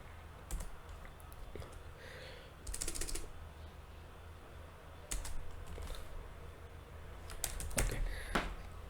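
Keys clatter on a computer keyboard in short irregular bursts, separated by quieter gaps, close by with a steady room hiss underneath.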